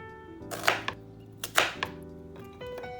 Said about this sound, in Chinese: 洋葱切成块